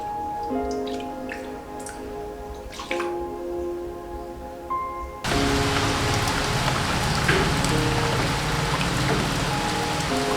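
Monsoon rain pours down in Kolkata, a steady broadband hiss of drops drumming and dripping on surfaces. It starts moderate and turns abruptly louder and denser halfway through, with no voices.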